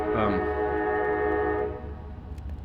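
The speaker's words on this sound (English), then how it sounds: "Train's going by. I do live right next to the train tracks." A train passes right beside nearby tracks, its horn sounding loud and sustained for well over a second, then fading into a low rumbling roll of railcars.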